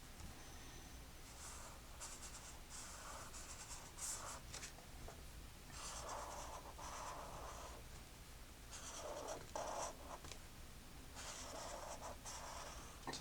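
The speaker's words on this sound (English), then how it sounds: "So I'm going to actually draw my thick filaments first." Marker strokes on a board while myosin thick filaments are sketched, a continuous close scratching and squeaking in short repeated bursts with faint pauses, no voice.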